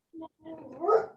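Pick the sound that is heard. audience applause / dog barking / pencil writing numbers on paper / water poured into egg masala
dog barking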